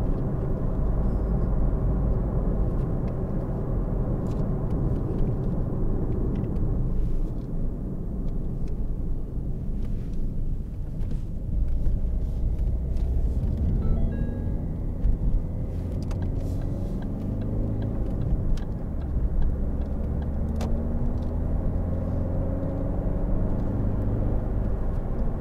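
A 2013 Ford Focus 1.6 TDCi ECOnetic diesel hatchback drives on the road, its engine and road noise forming a steady loud rumble with shifting tone as it accelerates, heard from inside.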